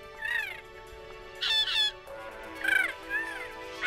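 Loud honking bird calls, several harsh cries in separate bursts with short pauses between, close by and alone.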